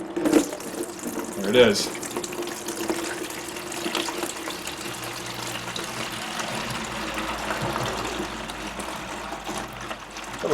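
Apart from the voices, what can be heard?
coolant draining from supercharger aftercooler into bucket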